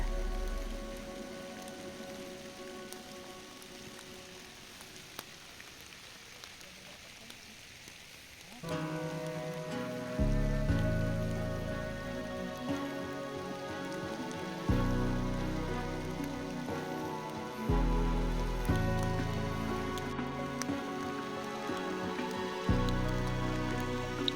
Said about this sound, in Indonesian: Hujan kali ini mulai ditemani oleh geledek tipis-tipis saudara-saudara